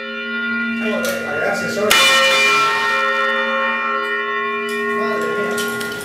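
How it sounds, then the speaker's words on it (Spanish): A large church bell in the tower of Arantzazu rings loudly right overhead, a sharp strike that leaves a long, dense metallic hum with rich overtones, followed by further peals. "repique de campana resultan interminables cuando uno está justo debajo de ella"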